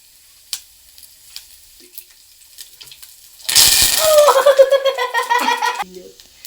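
Garlic and chillies dropped into hot oil, quiet clicks at first, then a sudden loud burst of crackling sizzle that sputters and pops for a couple of seconds before easing off.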